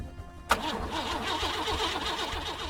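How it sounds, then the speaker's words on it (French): A truck engine cranks but does not catch: a sharp click of the key, then a continuous, rhythmic whirring churn of the starter turning the motor over, moderately loud, with no voices. "Même chose, le moteur ne démarre pas."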